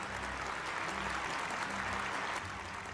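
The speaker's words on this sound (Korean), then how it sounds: "큰 박수로 축하해 주시기 바랍니다." Audience applause at a Korean peninsula peace summit report event, steady and dense clapping from a large crowd throughout, fairly distant and even in loudness.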